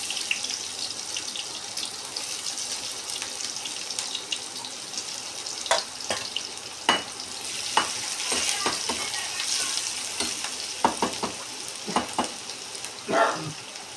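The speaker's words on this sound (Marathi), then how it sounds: "याच्यामध्ये मी आता कांदा टाकणार आहे." Onion frying in two spoons of oil for poha makes a soft, steady sizzle, with occasional scraping and stirring clinks close by.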